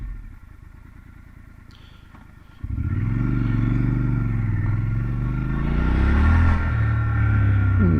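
A 2023 Triumph Scrambler 1200 XC, set in off-road mode with rear ABS off, idles with a low rumble, then pulls away loudly on gravel and keeps a steady engine drone that swells as it accelerates.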